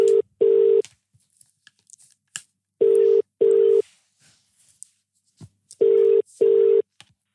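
A phone line rings unanswered: three double-burst ring tones, steady and electronic, spaced a few seconds apart with quiet gaps between.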